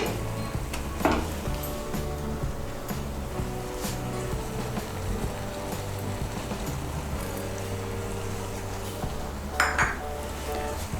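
Garam masala powder and chopped coriander stirred into egg bhurji in a metal pan, with steady scraping and clinking of a spoon against the pan, a couple of sharper clanks standing out, and a faint sizzle underneath.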